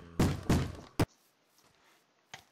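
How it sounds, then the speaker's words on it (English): Zombie knocking on a wooden door in Minecraft Tekkit: three loud, hollow thuds in a quick uneven burst, the last one short and sharp, followed by near silence and a faint distant knock. "You're knocking on that door."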